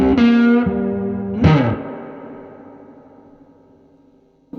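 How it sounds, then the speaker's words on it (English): A Les Paul guitar played through a Fender Vibrolux amp, its two-speaker spring reverb sustaining chords that ring out and slowly decay into a long reverb tail, with no talk over it. "stunning what Fender managed to do with reverb"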